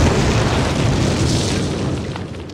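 Explosive charges detonate against a cinder block wall in the Call of Duty video game: one loud, broad blast that rumbles on as a sustained roar, slowly fading over a couple of seconds with no voices.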